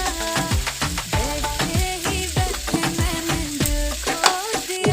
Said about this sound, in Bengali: দিয়ে দিলাম আলু, ছাড়ানো আলু, ভালো করে কষিয়ে নেব